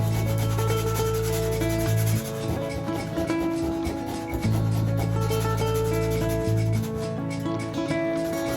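Sanding holes in a Land Rover Defender body panel, a steady rhythmic rubbing scrape with strong low humming tones, fairly loud and close, with no talk.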